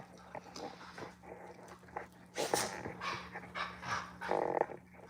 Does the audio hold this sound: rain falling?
no